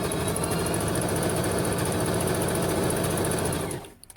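A Juki HZL-355Z household sewing machine stitches in a fast, even mechanical whir at close range, running steadily for a few seconds before stopping abruptly.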